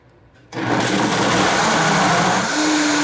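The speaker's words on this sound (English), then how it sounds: "Just turn the blender on." After a brief quiet moment, a blender with ice cubes and dessert ingredients kicks on and whirs loudly and steadily, its pitch shifting slightly near the end.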